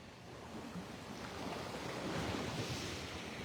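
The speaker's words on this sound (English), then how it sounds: "The wind is part of the beach." Wind blows across a dark Gulf beach under the outer bands of a tropical storm, with the low, steady rush of surf and waves behind it, faint and continuous.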